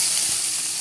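Chopped onions sizzling in hot oil with mustard seeds, a steady bright frying hiss close up, alone without talk.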